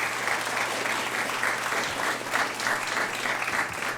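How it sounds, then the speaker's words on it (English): Applause from a Nerd Nite talk audience in Christchurch, a steady full round of clapping from a packed room, continuous and fairly loud with no pauses. "Can we give them a clap?"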